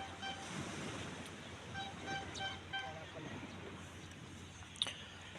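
Steady wash of ocean surf at a La Union beach resort, a broad continuous hiss with faint distant tones and a brief click near the end.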